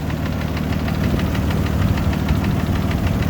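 A rebuilt engine in an 80 series Land Cruiser runs with a steady, rapid knocking tick repeating under a loud continuous mechanical rumble, heard up close.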